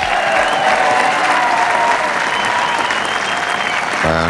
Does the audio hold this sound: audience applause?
yes